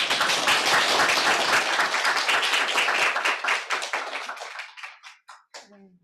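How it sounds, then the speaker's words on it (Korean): Dense audience applause welcomes a professor at a Seoul National University classics lecture, loud and steady for about four seconds before thinning into scattered claps, with a brief voice at the very end. "여러분 큰 박수로 교수님 환영해 주시기 바랍니다"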